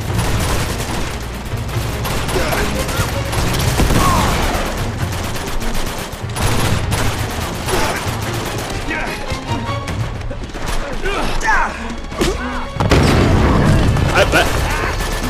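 Tank attack and gunfire in Uncharted 2: a dense, loud stretch of repeated gunshots, heavy booms and crashing impacts layered over a low rumbling bed, with a big blast near the end, alongside a voice talking.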